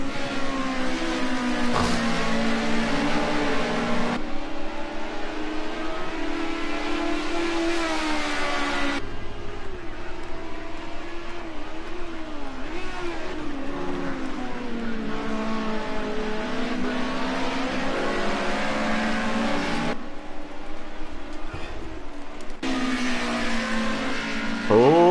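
Race cars lapping Watkins Glen during a KCTCC Group A touring car event, with engines roaring continuously and shifting pitch as cars pass near. The noise stays loud and steady throughout, and a commentator talks over it.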